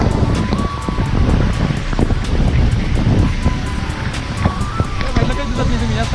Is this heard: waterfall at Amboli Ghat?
yes